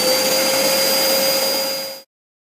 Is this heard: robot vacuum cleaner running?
yes